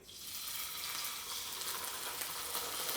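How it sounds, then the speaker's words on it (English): Salmon sears in a hot pan, a loud, even hiss and crackle of sizzling oil that swells right at the start and holds steady, close up and with no talking. "we're gonna put it in the pan. You're gonna hear that sizzle."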